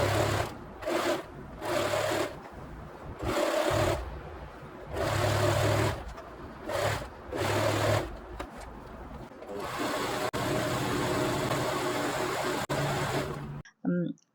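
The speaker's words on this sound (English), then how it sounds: "I have attached two fabric pieces together using a simple straight stitch" A sewing machine runs a simple straight stitch joining small fabric pieces into patchwork, whirring in repeated bursts of several seconds with short pauses between, then one longer continuous run before stopping.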